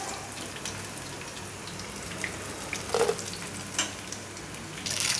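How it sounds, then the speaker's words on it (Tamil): Chicken 65 frying in hot oil, a steady, soft sizzle running throughout, with a few sharper pops and clinks of a utensil stirring the pieces. "இப்போ பாயில் நல்லா ஃப்ரை ஆகிடுச்சு"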